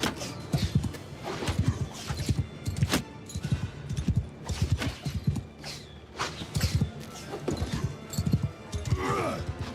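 Horses' hooves clop in a rapid, uneven rhythm across a battlefield in a fantasy war game, loud and close, with scattered clashes and occasional neighs mixed in.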